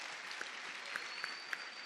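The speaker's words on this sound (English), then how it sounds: "I think that deserves a much bigger round of applause." Audience applause at a campus outreach event, a steady wash of clapping from a crowd with a few sharper individual claps standing out.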